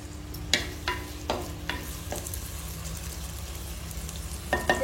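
Chicken pieces with curry leaves fry in a pan for a chicken tikka biryani, a steady sizzle broken by several sharp stirring scrapes and clatters, close and alone with no talking.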